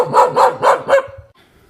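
A dog in a Pahadi hill village on the Paukhal–Mandalu road barks four times in quick, even succession, loud and close, with no talking.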